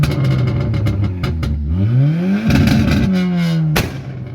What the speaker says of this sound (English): this is what his car sounds like